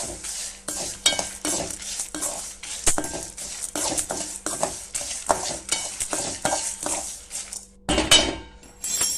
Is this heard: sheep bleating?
no